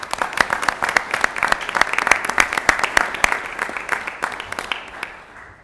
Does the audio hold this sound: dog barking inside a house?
no